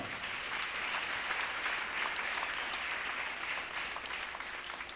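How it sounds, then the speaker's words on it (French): Haitian Baptist church congregation clapping in worship, a fairly faint but continuous patter of many hands, even and unbroken across the whole stretch. "Nous applaudissons mon Dieu pour victoire ça"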